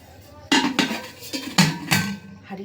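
A rice cooking pot and its lid being handled in a home kitchen, giving several sharp clanks and clatters spaced across a couple of seconds, close and fairly loud, with no talking.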